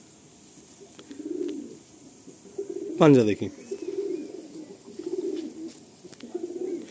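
A male Madrasi pigeon coos in a low, repeated throaty burble, close by, in several soft swelling phrases, with a brief sharp rustle or flap in the middle and a person speaking briefly.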